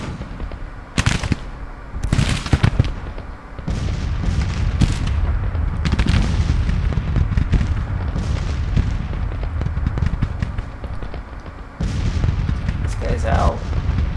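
Battlefield din from a Civil War strategy game at Chancellorsville: sharp musket volleys and booming artillery, crackling rifle fire rolling continuously in the middle distance with heavy thuds throughout.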